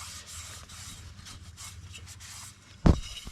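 Cloth rubbing and scrubbing against a Yamaha Wolverine 350 rear brake part, a t-shirt rag wiping out gunk in soft repeated strokes, ending with one sharp knock.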